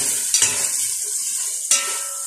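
Meat for a pumpkin, pea and mutton curry hits a hot pot and fries with a steady hiss, punctuated by two sharp stirring scrapes near the start and end; close and fairly loud, no talking.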